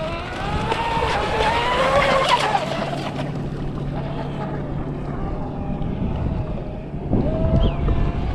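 An RC boat with a Mini Zonda outboard motor and trim tabs running on open water, its buzzing whine rising and falling as it passes, with wind buffeting the microphone throughout.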